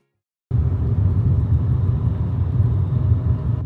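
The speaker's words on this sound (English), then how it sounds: "we're driving to Alberobello" A car drives along a road toward Alberobello in Puglia, heard from inside the cabin. After a brief silence, a steady, loud, low engine and road rumble starts and continues evenly.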